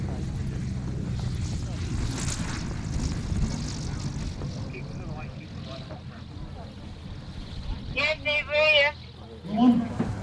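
A model aircraft flies at an outdoor air show in a crosswind, its engine droning steadily at a distance, while a commentator talks over the public address and crowd noise.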